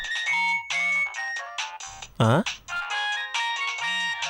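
A melodic phone ringtone plays loudly in repeating phrases, with a brief burst of a different sound midway and low talk underneath.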